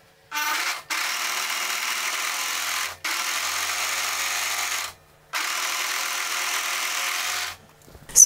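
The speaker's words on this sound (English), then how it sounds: "take the hem of your garment, either the back or the front, doesn't matter, and I want you to overlock this edge" An overlock sewing machine stitches a garment hem edge in three long, steady whirring runs, with short pauses between them, close and loud.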